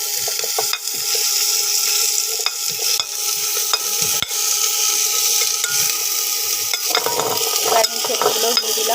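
Chopped tomato, capsicum, ginger, chilli and boiled potatoes frying in a pan for a Bengali soybean dish, a loud, close, steady sizzle with clicks and scrapes of stirring throughout.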